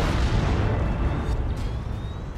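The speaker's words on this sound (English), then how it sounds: "Well, 1 heavy turret shot." A heavy turret shot in the Dawn of War 2 strategy game lands as a loud, rumbling explosion with a broad, noisy roar that lingers and slowly fades, alone and without talk over it.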